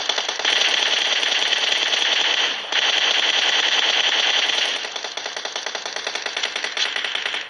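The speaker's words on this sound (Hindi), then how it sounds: "अब पीछे से आता है एक फायर जो कि हम पे फायर नहीं कर रहा था" Sustained automatic gunfire from a shooter video game, dense and loud throughout with a brief break near the middle, then slightly lighter rapid shots continuing to the end, with no talking.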